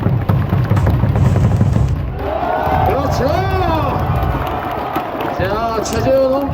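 Crowd at a Daejeon Hanwha Life Eagles Park baseball game against SSG Landers claps and cheers in a loud, dense burst, then fades as an announcer's voice rises over the stadium noise.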